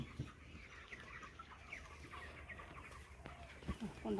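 Broiler chicks at 26 days old fill a farm shed with a steady chorus of soft clucks and peeps, fairly quiet and continuous, with a voice briefly audible.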